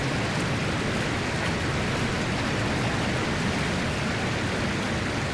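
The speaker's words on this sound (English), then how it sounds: "And this is the waterfall." Waterfall in the video game Dragon Age: Inquisition, a dense, constant roaring wash of falling water, loud and unbroken throughout with no talking.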